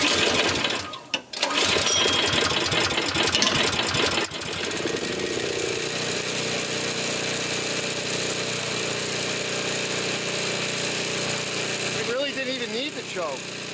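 Toro Power Clear 621 E snow thrower with a 163cc OHV four-cycle engine, starting on full choke and then running at a steady buzzing idle, close by, with a few brief changes in pitch near the end.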